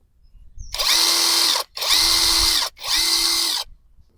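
A cheap cordless impact wrench with a brushless motor, set to its light mode, runs in three steady bursts of about a second each with brief pauses between them. The whine is loud and close, with no talking.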